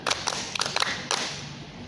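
Hands clap in a Scout counting game, a handful of sharp, close claps in an uneven burst of about five beats, with quiet room noise between them.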